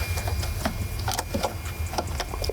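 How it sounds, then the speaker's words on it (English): Clicky, rapid ratcheting ticks from turning a 9/64 Allen key to back out a MAP sensor screw on a 2003-2007 Ford 6.0L Powerstroke, close and moderately loud, with no talking. "there's just 2 screws you unscrew here."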